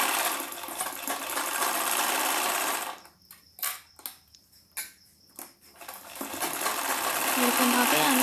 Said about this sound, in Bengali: তো আমি সেলাই করে নিচ্ছি